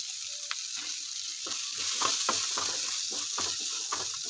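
Grated coconut sautés in a pan, giving a steady, close sizzle. A spatula stirs it in a run of short scraping strokes. No one speaks.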